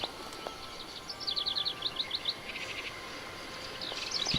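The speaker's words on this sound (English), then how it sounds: "Can I interact with the birds?" Birds in the Syberia video game chirp in quick bright runs of tweets over a soft hissing ambient background, fairly close and moderately loud.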